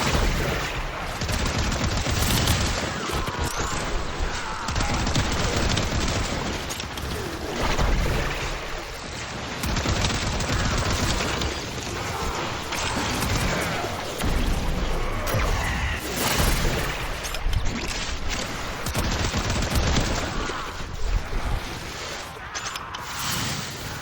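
Rapid, dense gunfire in the video game Warframe, sustained bursts of shooting with crashes and whooshes layered over one another, loud and nearly continuous, with a player occasionally talking underneath.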